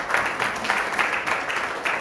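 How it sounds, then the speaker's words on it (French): Steady applause from an audience, a dense even patter of many hands clapping throughout, moderately loud with no clear pauses. "J'aimerais vraiment qu'on les applaudisse encore."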